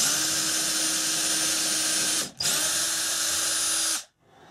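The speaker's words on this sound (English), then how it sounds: "after you've got those holes drilled, then pretty much time to put the lag bolts in" A power drill boring through drywall into a wooden stud for a TV wall mount, a loud close high-pitched whine running steadily, briefly dipping and restarting, then winding down to silence near the end.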